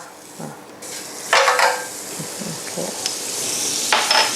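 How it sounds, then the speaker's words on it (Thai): Margarine sizzling in a hot grill pan before a vegetarian salmon steak goes in, with bursts of hiss, scraping and a few light metallic clinks from utensils. "ใส่มาการีนลงไปเล็กน้อยนะคะ พอไม่ให้แซลมอนเจเราติดกระทะ"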